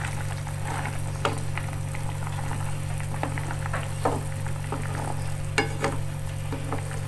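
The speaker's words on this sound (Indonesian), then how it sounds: "Kita aduk-aduk dulu ya guys." Spicy fried chicken gizzards and livers sizzling in a pan while being stirred, with a constant frying hiss, a low steady hum, and scattered scraping clicks of the spoon.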